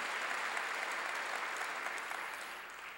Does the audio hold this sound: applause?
yes